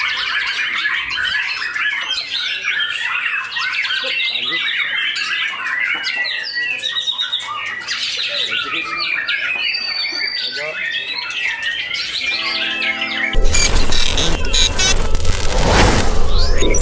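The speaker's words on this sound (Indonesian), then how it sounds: "Tapi keren loh burungnya" Oriental magpie-robin (murai) singing at an Indonesian songbird contest, a dense stream of bright chirps and squawky phrases amid crowd chatter, with a louder broadband burst of noise near the end.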